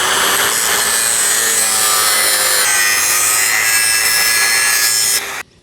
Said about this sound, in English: I'm just going to grind it.